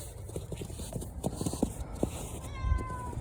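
A cat meows during an outdoor walk along a low river, a few short calls standing out over steady background noise, close by, with no clear speech.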